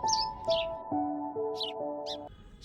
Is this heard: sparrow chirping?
yes